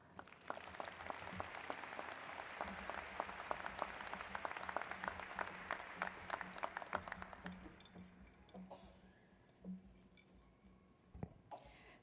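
Crowd at a City University of Seattle Class of 2018 graduation ceremony claps to welcome student speaker Kim to the stage: loud, dense applause that holds steady for about eight seconds, then thins out to scattered claps.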